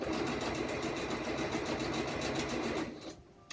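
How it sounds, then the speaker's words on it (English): Sewing machine stitching a face mask seam, a fast steady mechanical whirring rattle close up, running continuously before stopping abruptly near the end. "I'm going to back stitch to secure that seam"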